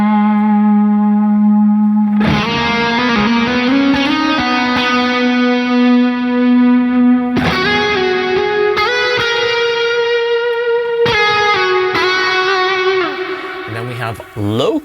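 Electric guitars processed through the default Outrun program of the Legends Verb reverb plugin, sustained distorted chords and ringing notes with a wide, washy reverb tail, loud and continuous.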